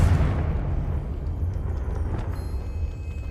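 In the video game Hogwarts Legacy, a Confringo spell detonates with a loud, heavy rumbling blast that sustains through the moment and slowly thins out, with no voices.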